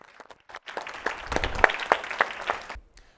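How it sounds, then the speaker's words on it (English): Audience applause at a PBS Nashville talk event, a burst of clapping that builds and sustains for a few seconds before tapering off, fairly close and loud. "let's have a big round of applause for our great friend, Rob Tercek"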